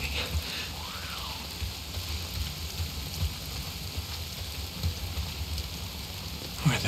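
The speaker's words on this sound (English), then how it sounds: "Why is it always raining?" Steady rain falls in the video game Days Gone, a continuous close hiss of drops on surfaces that holds evenly throughout, with a faint tonal sweep early on.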